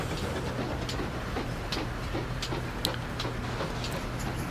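A train pulls into a station in the video game Transport Fever 2, with a low rumble under regular light ticking and clicking of wheels on track, moderately close and steady.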